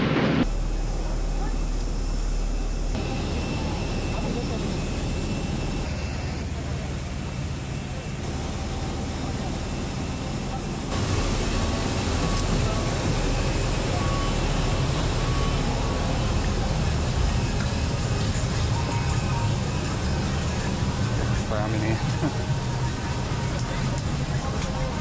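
An airport bus engine rumbles steadily while driving to the plane, with continuous road noise and shifts in intensity; voices talk intermittently over the drone.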